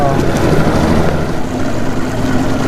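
A fishing boat motor takes off on Percy Priest Lake in Nashville: a loud, continuous engine roar blended with rushing wind and water noise, steady throughout and close by.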